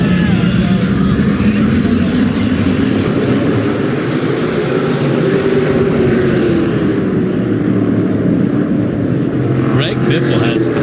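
SRX race cars at South Boston Speedway in 2022 rumble toward a restart, a continuous loud engine roar blended with crowd noise, with commentary running over it.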